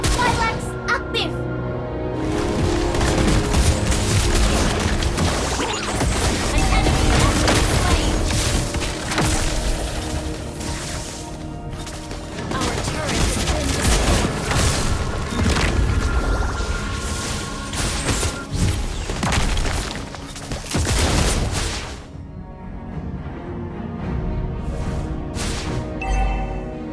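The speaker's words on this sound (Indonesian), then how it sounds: "Your team destroyed a turret." Mobile Legends tank-hero match in the gold lane as a turret is destroyed: dense, loud game combat with crashes, booms and thuds layered over music and announcer voice lines, sustained for most of the stretch before easing off near the end.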